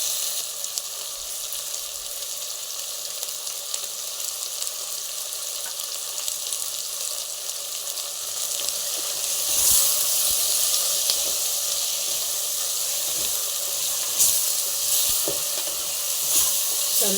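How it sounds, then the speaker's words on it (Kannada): Tomatoes fry with turmeric and salt in a pan for kushka rice, a steady crackling sizzle that grows louder midway, with occasional stirring clinks. "ಇದನ್ನು ಟೊಮೊಟೊನ ಸ್ವಲ್ಪ ಮೆತ್ತಗಾಗೋವರೆಗೂ ಫ್ರೈ ಮಾಡ್ಕೊಳ್ಳಿ."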